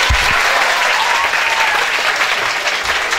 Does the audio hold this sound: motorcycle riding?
no